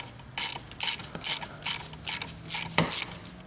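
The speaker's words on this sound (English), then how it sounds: "got a 1/2-inch socket. Now we can remove that." A ratchet with a 1/2-inch socket loosening the fuel filter nut on a 2006 GMC Sierra Duramax diesel, about eight quick, loud, evenly spaced clicking bursts heard close up.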